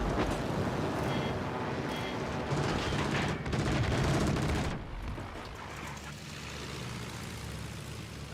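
Anti-aircraft guns on a Calais warship open up in World of Warships: Legends with a dense, continuous barrage of rapid fire that stays loud and unbroken, then thins to a steadier roar toward the end.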